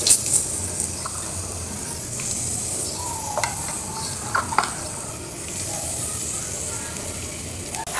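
Chopped onions fry in hot oil in a wok for crispy fried onions, giving a constant loud sizzle with occasional clinks and scrapes from stirring.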